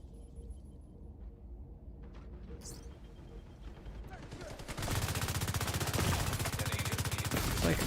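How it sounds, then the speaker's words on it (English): Light machine gun fire in The Division 2, opening with scattered game sounds and low rumble, then a loud, sustained rattling burst of rapid automatic shots from about the halfway point to the end. "The incoming damage from LMG guys on this map is just wild."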